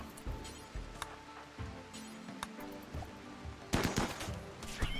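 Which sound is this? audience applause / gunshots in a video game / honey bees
gunshots in a video game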